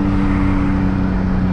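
A 2001 BMW M3 Touring wagon's engine holds a steady loud drone with its exhaust valve open, a strong even tone throughout with no break.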